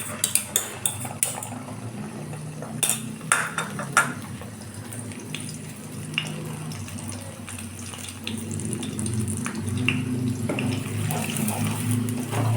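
Two beaten eggs being scrambled in hot oil in a pan for chira pulao, heard as close scraping, clinking and stirring with a steady sizzling hiss underneath, no talking.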